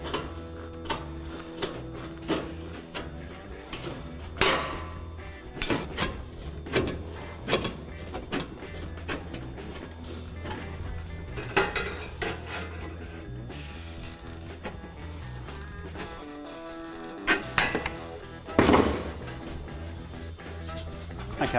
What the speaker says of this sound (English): So I'll just mark that and then cut those off with a tin snips.